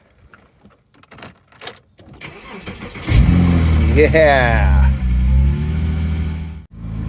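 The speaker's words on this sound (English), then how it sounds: "now we should be able to go ahead and start up the car" A 2006 Porsche Cayman S engine, started with a jump starter, cranks and catches, settling into a loud steady idle after a few seconds of quieter rustling and a brief spoken word.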